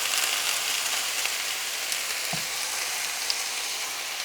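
Diced potatoes, cut small and seasoned with garlic salt, fry in hot oil with a bright, continuous crackling sizzle and occasional soft pops, close and steady, no voices.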